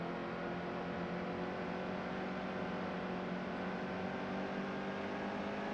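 A race car engine drones steadily on the Eldora dirt track in NASCAR Heat 2, heard from the cockpit: an even, unbroken hum at moderate level with no talking.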